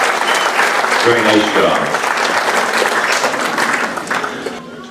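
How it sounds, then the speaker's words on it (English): An audience at a singing contest applauds warmly, the clapping fading gradually over several seconds while a voice speaks briefly over it. "Please give her a nice round of applause."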